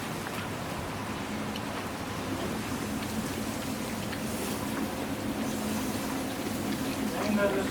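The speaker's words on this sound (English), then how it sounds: "It's raining out here and he's still grilling." Rain falls outdoors on a cold day while hot dogs cook on a grill, a steady, even patter of drops with people talking over it.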